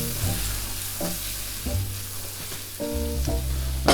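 Garlic and shallots sizzle steadily in a hot pan while it is swirled, the frying hiss broken by a few low scraping shifts and clunks of the pan, close and fairly loud with no voices.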